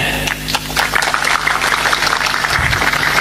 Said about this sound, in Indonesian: Dia tepuk tangan itu paham.